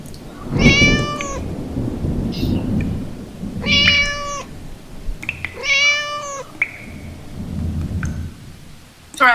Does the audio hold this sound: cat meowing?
yes